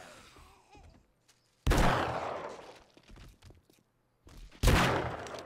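Two loud, sharp gunshots ring out in the Wild West mod of 7 Days to Die, each trailing off in a long echoing decay, with quiet shuffling sounds in between.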